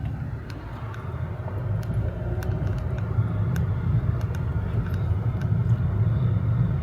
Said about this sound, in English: Look at that car.